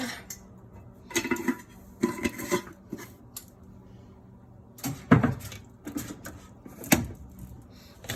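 Milk, salt and black pepper being mixed for a chicken lasagna, with several separate bursts of scraping and clinking from a utensil against a bowl, pausing between strokes, close by and moderately loud.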